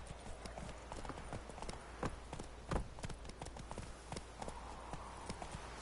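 Roach the horse clip-clops along at a steady walking pace in The Witcher video game, repeated hoofbeats heard close and moderately loud over soft ambient background.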